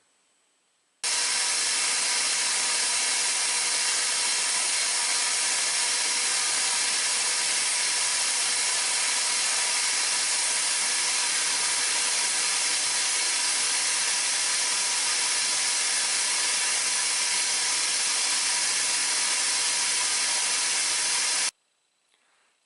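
A flatbed belt sander grinding the wooden grips of a paring knife flat to the metal tang: a sudden loud, steady abrasive hiss with a motor hum that runs unbroken for about twenty seconds, then cuts off sharply.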